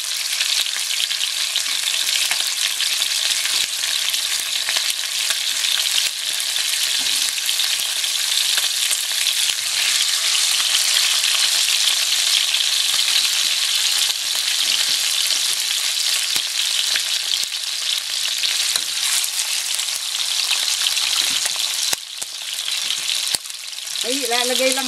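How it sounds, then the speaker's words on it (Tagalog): Chicken wings fry steadily in a pan over medium heat for a teriyaki dish, a loud, continuous sizzle and crackle with occasional stirring scrapes, no voices. "over medium heat, itong chicken, i-fry natin"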